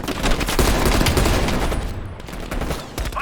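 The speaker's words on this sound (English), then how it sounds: "Heavy MG on the ridge." Heavy machine gun fire from a ridge in Call of Duty Black Ops Cold War rattles in loud, sustained bursts with booming impacts, easing slightly before picking up again at the end.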